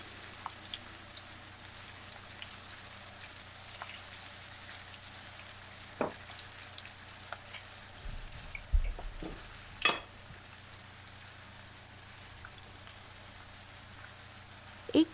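Three or four cloves frying in hot oil for an eggplant and green pea sabji, a faint steady crackle with a few louder stirring clicks near the middle.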